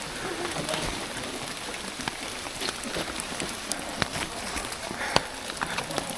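Cold rain on a mountain trail at Gede, a steady dense patter with scattered sharper drops hitting nearby surfaces, continuous and moderately loud.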